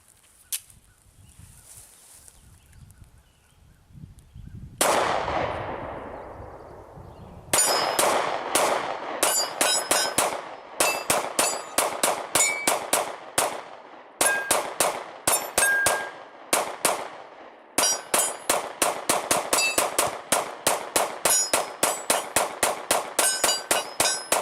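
A SIG P365 pistol fires from a Promag drum magazine, with rapid close gunshots in quick strings separated by short pauses, each crack ringing with metallic clangs over an echoing outdoor range.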